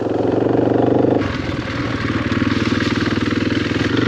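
Motorcycle engine running steadily and close, a loud continuous idle-like drone with a slight change in tone partway through, heard during a ride toward a beach near Palenque.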